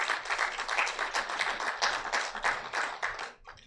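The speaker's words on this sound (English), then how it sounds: "please let us give him a hand of applause" An audience at a development-plan symposium in Uganda applauds with steady, moderately loud clapping that runs for about three seconds and then trails off.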